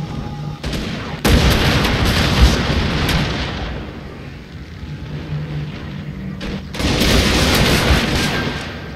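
Dense bursts of rapid gunfire and booming blasts from Total War: Shogun 2, loud and continuous, pausing briefly in the middle before resuming.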